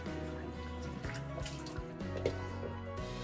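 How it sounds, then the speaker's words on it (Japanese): Running water at a bathroom sink during a face wash, a steady soft trickle with small splashes and drips close by, continuous for a few seconds with no voices. "泡で出る洗顔を使って顔を優しく洗ってあげます"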